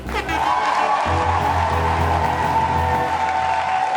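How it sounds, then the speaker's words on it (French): An audience applauds a performer at a bikutsi music show with sustained, dense clapping and crowd noise, loud and continuous, which settles into steady applause after the first second. "Et les esprits, on va encore l'applaudir très fort s'il vous plaît."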